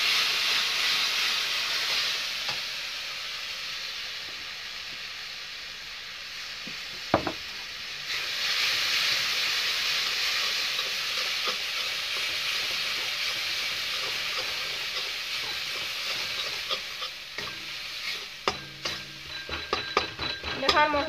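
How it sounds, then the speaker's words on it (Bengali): Masala paste for green banana kofta sizzling in hot oil in a pan, a loud steady hiss that holds throughout, with a single sharp knock partway and scattered stirring clatter near the end. "এটা আমি ভালোভাবে এখন ভাজিয়ে নেব মশলাটা"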